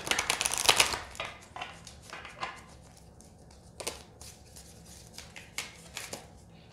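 Tarot cards shuffled by hand make a string of quick papery riffles and soft slaps at an irregular rhythm, close and clear, with no talking.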